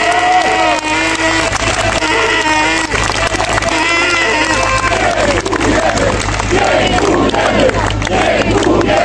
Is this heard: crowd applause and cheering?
yes